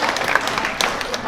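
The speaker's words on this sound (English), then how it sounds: "Clap it up for your amazing teachers." A school audience at a college signing day applauds a brief, steady patter of clapping from a nearby crowd, with a couple of sharper claps standing out.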